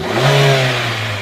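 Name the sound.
Hyundai Grand i10 car engine revving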